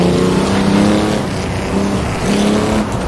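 A 1930s Grand Prix race car in Assetto Corsa pulls hard under throttle, its engine droning in a steady, loud, buzzy note with slight rises and dips as it accelerates, no voices.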